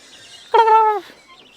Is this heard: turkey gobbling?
yes